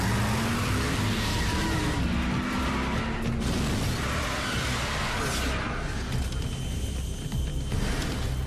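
Cartoon Transformers robots change into cars and drive off, with loud revving engines, skidding and whooshing passes layered over a busy soundtrack.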